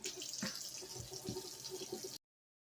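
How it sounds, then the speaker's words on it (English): Running tap water splashes over raw turkey wings being rinsed in a kitchen sink, a close, steady, fairly quiet wash with soft spatters that stops abruptly. "we're just going to continue to wash off our meat and put them aside before we season them"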